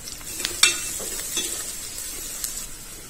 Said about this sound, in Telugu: ఇదంతా కొంచెం బాగా వేగేలాగా అప్పటి వరకు కూడా ఇది ఫ్రై చేసుకోవాలండి వేపుకోవాలి గోల్డెన్ బ్రౌన్ కలర్ వచ్చేంత వరకు